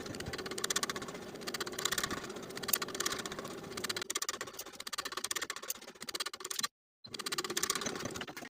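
Sewing machine stitching binding onto a blouse ruffle, a rapid even mechanical chatter running in bursts with a short pause near the end, close and clear.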